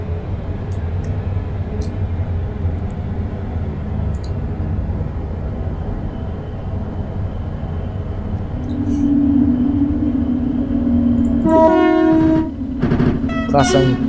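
Train pulling into a station on a British Rail branch line: steady low rumble of the moving train builds, then a long horn note sounds near, followed by squealing brake tones as it slows.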